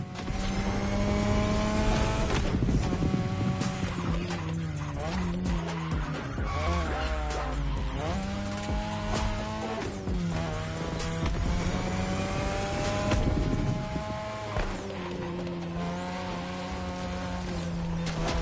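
A car racing in a video game, with continuous engine drone and repeated tire squeals and skids over steady backing music, loud and sustained throughout.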